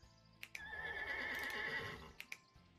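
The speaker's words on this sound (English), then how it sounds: "a horse made of diamonds" A video-game horse made of diamonds gives a loud, close whinny lasting over a second, with a few sharp clicks just before and after it.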